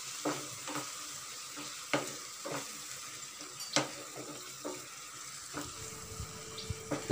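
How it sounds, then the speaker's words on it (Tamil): Prawns sautéing in a pan for prawn masala, a faint soft sizzle punctuated by a series of sharp clicks and taps of a spatula stirring, quiet and close. "இதை ஒரு 5 நிமிஷத்துக்கு நல்லா வதக்கி விட்டுடலாம்"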